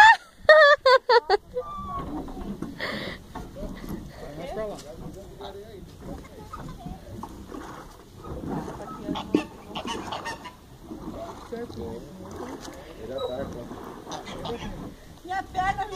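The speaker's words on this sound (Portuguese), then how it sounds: "Pato tá bem atrás de você." A duck near a pedal boat lets out a rapid series of loud honks at the start, followed by splashing and people talking on the water.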